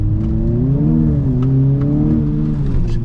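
A race car on a circuit revs hard under throttle, its engine tone rising and falling in a continuous loud whine, close and with no talking.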